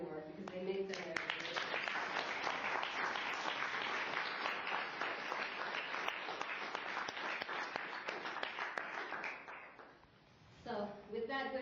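An audience applauds the police department at a town meeting in Bel Air, dense sustained clapping for about ten seconds that fades out, followed by a voice speaking.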